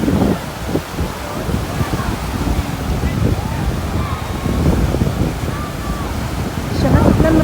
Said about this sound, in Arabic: وشايفين سامعين صوت البحر